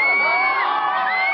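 A mixed crowd of supporters and protesters at a French presidential visit lets out a dense wall of cheers, whoops and whistles, loud and sustained throughout.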